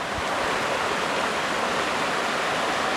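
A river and waterfall at Beaver Brook Falls rush steadily, a dense, unbroken roar of flowing water close by with no voices.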